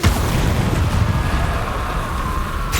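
Incendio fire spell cast during combat in Hogwarts Legacy, a loud, steady roaring rush of fiery noise with heavy low rumble that keeps going for the whole stretch without a break.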